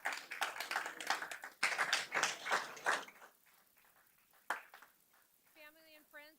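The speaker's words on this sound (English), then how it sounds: "let's give all of our substitutes a big round of applause" People at a board of education meeting applaud substitute teachers: a burst of lively clapping that thins and fades after a few seconds, then a quiet pause before a voice briefly starts speaking.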